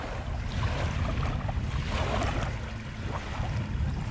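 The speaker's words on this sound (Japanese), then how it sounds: "波の音がね聞こえて" Small waves lapping on the shore of Lake Toya beside a lakeside campground, a steady washing rumble mixed with wind noise on the microphone, close and continuous without voices.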